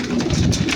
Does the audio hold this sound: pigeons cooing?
yes